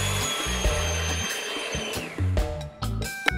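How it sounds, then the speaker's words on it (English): An electric mixer beats six egg whites for a coconut cake, its motor whirring loudly in bursts that start and stop, with clattering contact against the bowl between runs. "I'm going to add 6 egg whites and I'm going to beat it in for about a minute and a half"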